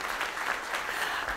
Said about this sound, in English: Oh, let's give Richard a round of applause